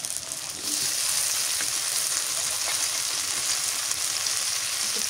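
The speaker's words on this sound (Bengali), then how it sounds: "পেঁয়াজ কষে দিয়ে দিলাম কাঁচামরিচ বাটা দিয়ে দিলাম" Onions with green chili paste fry steadily in a pan for a Bengali hilsa fish dish, a loud, close, continuous sizzle that holds constant throughout with no talking.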